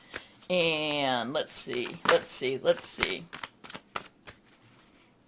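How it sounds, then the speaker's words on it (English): Tarot cards from an angel-themed deck being shuffled and drawn, with quick crisp riffles and light flicking taps close by, under someone speaking. "We're going to pull one from the Angel, Redley Valentine Angel Tarot cards."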